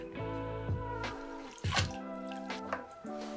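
Canister filter pads from a turtle tank filter are rinsed by hand in water, with close splashing, sloshing and dripping in short irregular bursts and no talking.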